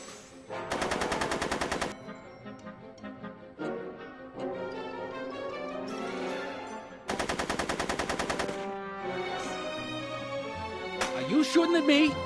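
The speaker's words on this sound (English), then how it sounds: "Are you shooting at me?" Two long bursts of rapid automatic gunfire from Back to the Future: The Game, each a dense, loud rattle lasting over a second, separated by stretches of tonal game music and effects.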